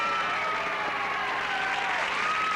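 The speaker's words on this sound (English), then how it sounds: "Usually causes all that applause." A studio audience at a 1978 late-night satirical talk show breaks into dense, continuous applause that holds at a steady, loud level from start to finish.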